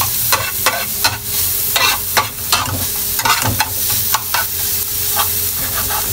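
Garlic sautéing for tinolang manok sizzles steadily in a hot pan while a utensil scrapes and stirs in repeated sharp strokes, close and loud with no talk.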